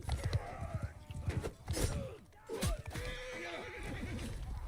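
A horse in Mount & Blade: Bannerlord battle whinnies in wavering neighs over clattering hooves and combat noise, with a voice talking underneath.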